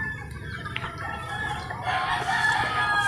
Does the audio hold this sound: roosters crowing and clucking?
yes